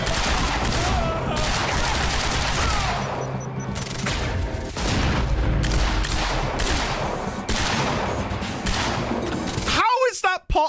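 Rapid gunfire in the video game Quantum Break comes as dense bursts of shots and impacts across most of the stretch, with a person talking over the action before a short quiet gap at the end.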